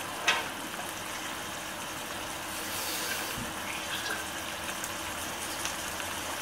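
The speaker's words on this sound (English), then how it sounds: "I'm just going to get a little bit of water." Water gushes steadily from a tap into a cup, a continuous hissing pour with a brief knock near the start.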